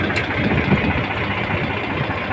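A Mahindra 415 Yuvo tractor engine idles with a steady, even rumble, loud and close, running alone without voices.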